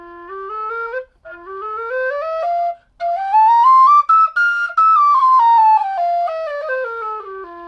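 A low whistle plays a slow, clear melody, rising and falling with a couple of brief breaths between phrases, close and loud.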